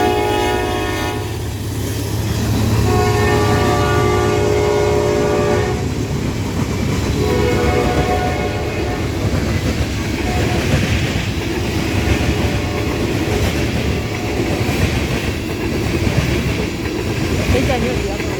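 A freight train led by two AC44C6M locomotives rolls close by with a loud, continuous rumble and wheel clatter, its distinctive horn blaring in sustained blasts over the first seconds while faint talk mixes in.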